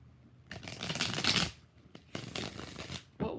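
Tarot cards being shuffled in two quick, rustling bursts with a brief pause between them, close and fairly soft.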